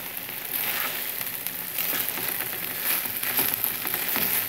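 Sweet yellow rice (jorda, wedding-style) being stirred in a pan on the stove: a continuous close sizzle with scraping stirring strokes, no voices.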